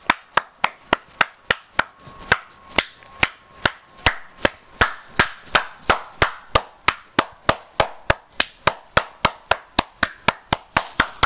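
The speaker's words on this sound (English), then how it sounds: "Can I clap loud?" Loud hand clapping close by, a long steady run of about forty sharp claps at a quick, fairly even rhythm with no talking.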